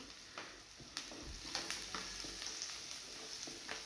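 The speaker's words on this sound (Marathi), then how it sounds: "मस्त परतून घ्यायचं व्यवस्थित गुलाबी कलर येईपर्यंत" Onion, green chilli and curry leaves sauté in oil in a kadhai, a faint continuous sizzle broken by scattered spatula scrapes and light taps, close and steady with no voices.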